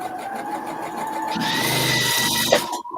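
A sewing machine doing applique stitching on an apron, a loud close mechanical whir that speeds up partway through into a steady buzz, then cuts off abruptly at the end.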